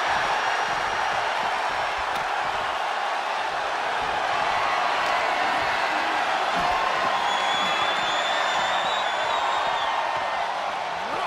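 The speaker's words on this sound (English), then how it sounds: "A deafening cheer from the WWE Universe is reverberating around us." A WWE wrestling crowd roars in a sustained, loud cheer that fills the arena for the whole stretch, dense and reverberant with occasional whoops rising above the wash.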